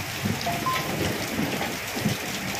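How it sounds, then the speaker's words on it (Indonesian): Rain falls steadily behind a house, a dense, even patter with faint drips standing out now and then. "Teman-teman, ini pas hujan ya."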